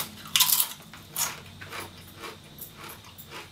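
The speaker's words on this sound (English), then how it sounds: "They're ultra crunchy like kettle cooked chips should be" Crunchy Zapp's Dill Gatortators kettle cooked potato chips are bitten and chewed close up, a sharp crunch followed by a steady run of softer chewing crackles, with no talking.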